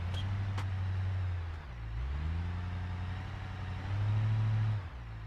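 Truck engine in BeamNG.drive revving while the vehicle struggles through donuts, a loud droning rev that dips, climbs back and surges again, with no talking.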